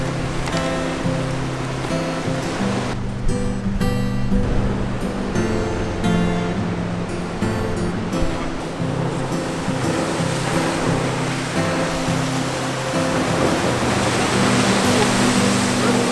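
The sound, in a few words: waves on a beach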